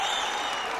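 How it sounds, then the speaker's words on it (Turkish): Fans cheer and clap for a knockdown at a kickboxing match in Izmir, a dense, loud burst of crowd applause. "Taraftarlar da bu knockdown'ı alkışlıyor."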